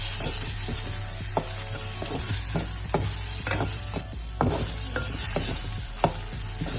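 Onions fry in hot oil with cumin seeds, a constant close hiss and sizzle with periodic scraping taps of a spoon stirring the pan, no voices.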